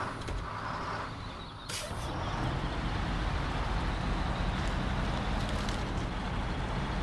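Rumbling heavy truck engine in the video game SnowRunner, with a hissing air-brake release near the start, then a steady low drone.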